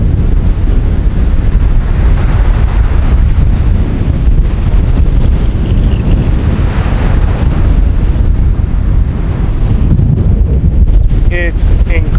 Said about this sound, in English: Incredibly windy out here,